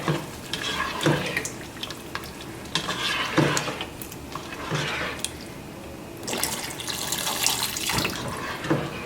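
Water is poured into a pan of butter chicken gravy seasoned with garam masala and fenugreek leaves, giving a loud, close, continuous splashing rush with sizzling and stirring sounds over several seconds.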